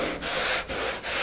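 A sharp hand saw cuts through a block of foam rubber in three quick back-and-forth strokes, each a close, loud, breathy rasp separated by brief pauses.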